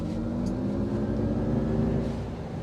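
A 2025 GMC Hummer EV pickup decelerates under regenerative braking, giving a steady, loud low drivetrain and road rumble with a faint whine, continuous and unbroken, without talk.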